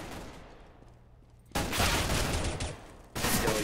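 Gunfire in Counter-Strike on the de_mirage map at a HellRaisers versus PENTA match: after a quiet stretch, loud bursts of shots erupt close up, pause briefly, then start again.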